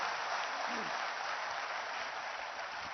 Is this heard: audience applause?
yes